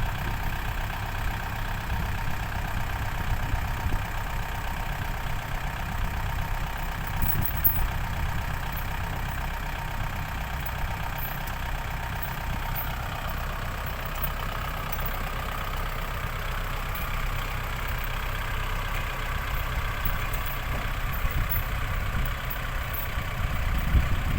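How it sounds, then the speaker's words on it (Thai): A yellow Deka tractor engine labors steadily pulling through hard, boggy ground, with a low, rough drone that holds constant, heard alone without voices. "รถไถลากตามระเบียบ"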